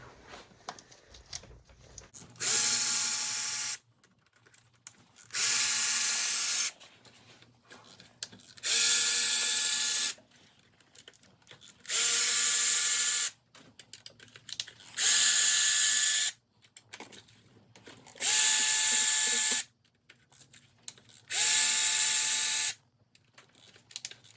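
Cam carrier bolts on a VW EA888 engine in a Mk6 Passat or GTI being undone with a power ratchet, seven loud buzzing bursts of about two seconds each, evenly spaced by short quiet pauses.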